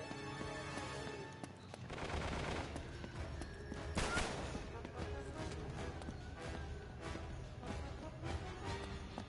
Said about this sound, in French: les tirs sont magnifiques des fois